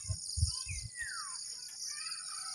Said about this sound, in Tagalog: Marinig mo yung mga huni ng ibon.